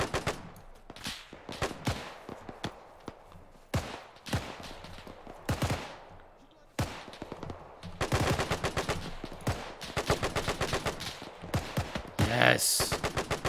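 Arma 3 gunfire crackles in sharp bursts and rapid automatic strings, some near and loud, others softer, with a dense volley toward the end; a voice talks at times between shots.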